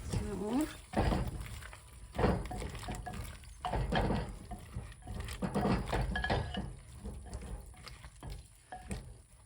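A spoon scrapes and clinks through a dish of twice-baked potato casserole halfway through baking, with soft stirring, clattering and a faint sizzle, while a person talks over it.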